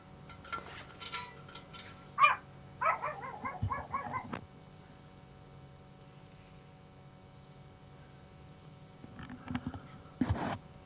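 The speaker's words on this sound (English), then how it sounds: "Sorry if you heard my chihuahua barking." A chihuahua barks in short bursts of sharp yips, a quick cluster early on and another late flurry, fairly faint and off to one side between quiet stretches.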